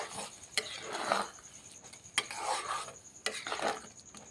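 Turmeric and chili powder are stirred into a semolina and potato mixture in a pan over a low gas flame, with three scraping, swishing stirring passes at a steady rhythm, close and clear, with no talking.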